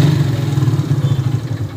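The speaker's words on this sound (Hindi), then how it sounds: "जल्दी से करते हैं बाइक स्टार्ट और चलते हैं।" A motorcycle engine running at idle just after starting on a cold day, a loud, close, steady low throb with a rapid even pulse and light mechanical clatter.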